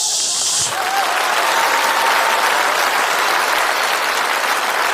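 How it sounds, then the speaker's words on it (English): Loud, sustained applause from a large comedy-show audience, steady clapping filling the whole stretch with a few cheers mixed in. "Keep that applause going for your next comic!"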